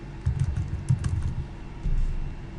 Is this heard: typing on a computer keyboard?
yes